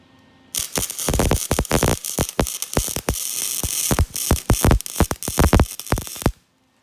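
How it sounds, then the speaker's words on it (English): Stick or arc welding on a trailer tongue, a series of sharp crackling bursts and buzzing pulses in uneven rhythm, close and loud, stopping abruptly near the end. "I'm going to put a little weld on it"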